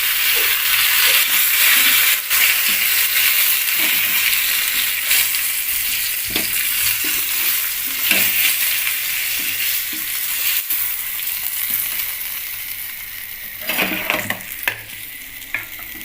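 Malvani bangda (mackerel) fish fries in oil in a pan, a steady loud sizzle running throughout with a few scraping stirs and clinks near the end.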